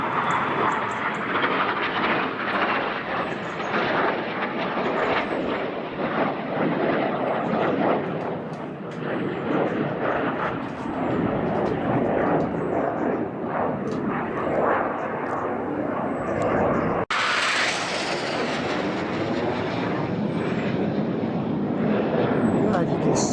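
A jet aircraft roars past with a broad, steady rush that fades toward the distance, while people talk over it and an abrupt cut appears near the end.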